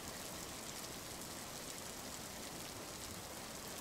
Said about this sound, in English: Actually, the rain isn't that loud.